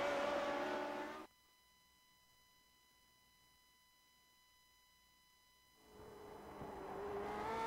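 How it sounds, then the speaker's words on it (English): A Lotus 79 racing engine roars onboard during a lap of Bathurst in a racing game, loud and steady before cutting to near silence with a thin whine, then the engine noise swells back. "we've got Juha Norlampi in the GSRC Lotus 79, so let's do a lap around Bathurst"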